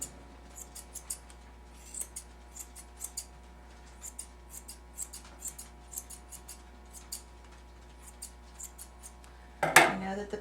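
Curved grooming scissors snip around the outside edges of a dog's ear, making a steady run of small, light cutting clicks at close range, with a louder handling rustle near the end.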